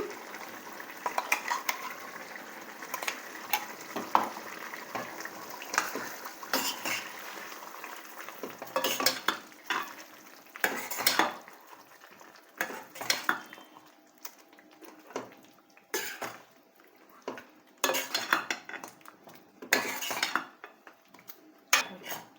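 A spoon scrapes and clinks against a pan while stirring ground paste into chicken gravy, in repeated strokes, close by, with brief quiet gaps between bursts of stirring.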